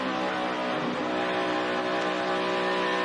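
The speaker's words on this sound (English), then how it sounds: "You just hear him, you get out of it, let the car roll a little bit, maybe a little bit of braking, and then you're right back on the gas" A NASCAR Sprint Cup race car driven by Carl Edwards at Michigan in 2011 roars steadily and loudly up close, its engine note easing briefly as the driver lifts off the throttle, then swelling again when he gets back on the gas.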